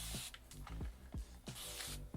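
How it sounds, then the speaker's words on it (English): Several short hissing spray bursts of Olaplex No.3 on natural hair, each a quick pump-like spritz, repeating at a steady rhythm close by with faint handling noises between. "I'm gonna spray the number 0 on my hair."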